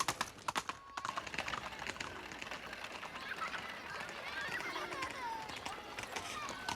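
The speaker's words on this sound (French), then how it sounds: "Mais les rues sont toujours envahies par des dizaines de milliers de voitures à cheval" Horse hooves clip-clop on a Paris street as a horse-drawn carriage passes, sharp rhythmic clops at first then a busier wash of street noise with faint birds.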